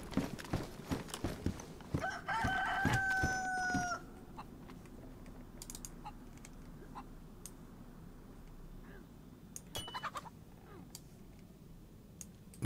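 A chicken in the video game DayZ gives a crowing call over clip-clopping footsteps, followed by sparse faint clucks and clicks against a quiet outdoor background.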